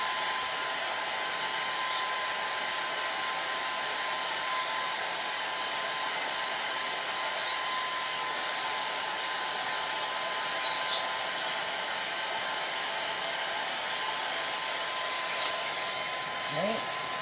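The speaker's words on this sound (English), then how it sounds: "just be careful, this tin will get a little hot as you're blow drying it" A hair dryer blows steadily on a painted tin pot for a bumble bee potted plant craft, a loud, constant whirring hiss that runs unbroken for the whole stretch with no talking.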